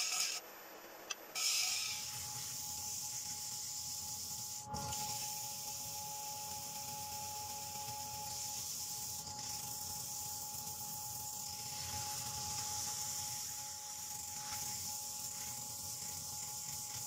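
Continuous abrasive rubbing hiss over a steady lathe hum as a maple bowl is sanded, a long even sanding sound with slight variations in pressure.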